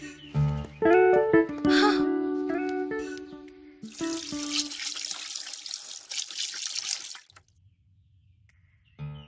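Water runs steadily from a shower for several seconds after some music and voices, a broad hissing spray that stops abruptly before a quiet low hum.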